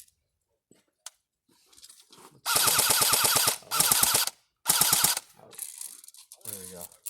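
An airsoft gun firing full auto at an outdoor airsoft session, three loud close rapid bursts of mechanical rattling shots separated by short pauses, with faint voices and movement around them.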